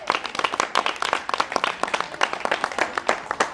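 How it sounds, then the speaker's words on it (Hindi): Crowd applause at a police officer's free school for slum children, a dense burst of many hands clapping steadily and fairly close for several seconds, with no voices over it. "ताली बजा दीजिए"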